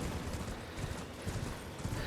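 Horse galloping in the video game Elden Ring, with rapid rhythmic hoofbeats thudding steadily and close over a soft background wash.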